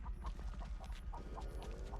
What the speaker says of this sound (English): Chicken is so annoying.